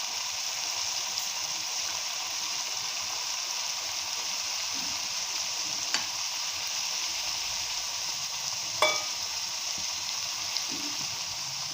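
Bengali-style spice paste with dried red chilli and a splash of water sizzling in a pan while being stirred, a soft continuous hiss with occasional light clinks of the spoon.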